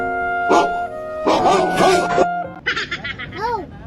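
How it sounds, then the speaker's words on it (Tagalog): Dog at a seaside camping site in La Union giving a few short barks and yips mixed with whimpering, close by, with people talking around it. "Kagat yung aso dyan."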